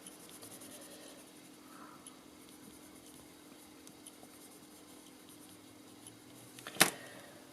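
Watercolour pencils in blue and orange rubbed across paper give a faint, steady, soft scratching that runs throughout, with one sharp knock near the end.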